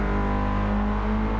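Mazda Roadster race cars in Gran Turismo 7 drone along in a steady, close engine note with a constant pitch and no break, heard alone without talk.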